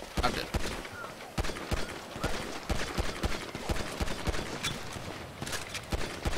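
Rapid bursts of gunfire in a first-person shootout in Grand Theft Auto, sharp repeated shots in uneven clusters throughout, loud and close.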